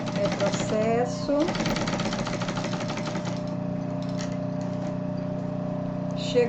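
A sewing machine with its standard presser foot stitches along a zipper on a cross-body bag, running in a steady, rapid mechanical whir close by. Someone talks over it.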